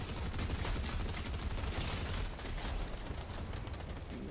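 Rapid automatic sniper rifle fire in Fortnite, a dense unbroken burst of gunshots that stays loud and steady throughout, with no talking.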